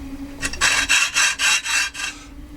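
Hacksaw fitted with an 18 TPI blade cutting through 2mm steel: six even, rasping strokes in a steady back-and-forth rhythm, close and fairly loud, with no talking.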